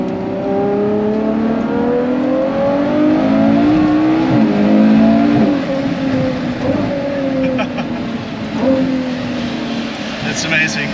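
A Ferrari 812 GTS V12 engine revs on the road in Italy. A loud, close, smooth multi-toned howl climbs and falls in pitch through repeated throttle swells, with a voice faintly in the background.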